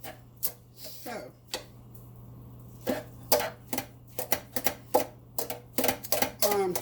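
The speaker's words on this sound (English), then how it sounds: "I'm chopping that broccoli, and what I'm doing over here off the camera, y'all hear me chopping" Sharp knife strikes chopping broccoli against a cutting board, irregular and close, sparse at first then coming in quicker clusters, with a steady low hum underneath.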